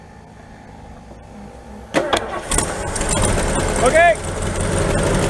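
An old car engine cranks as the key is turned, with a burst of starter noise followed by the motor catching into a rough running sound, close by, with people talking over it.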